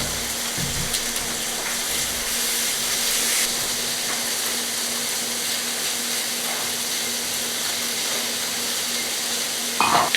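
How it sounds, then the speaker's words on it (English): Lamb chops searing on a hot plate grill, a loud, continuous hiss and sizzle heard up close, with a few brief clatters near the start and the end. "We just putting them on this plate grill to sear them."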